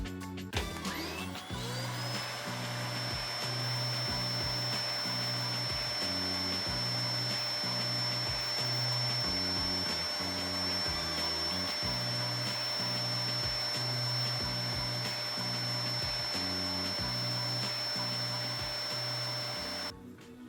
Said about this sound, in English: We've got a battery in our Milwaukee vacuum here.